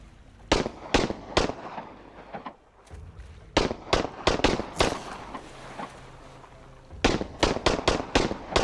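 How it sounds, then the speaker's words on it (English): Guns fire through walls in the survival game Sunkenland in sharp, close bursts of shots, several quick reports in a row, then pauses between clusters. "Stop shooting through the walls."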